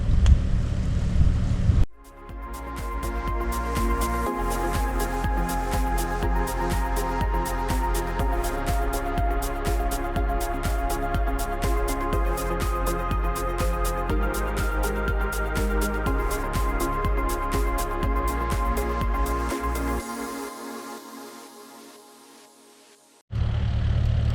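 An excavator digs out a steep dirt bank on a vacant lot, its engine droning steadily and loudly with rhythmic low-end pulses and clanks of the bucket working, the machine running close throughout before cutting off near the end.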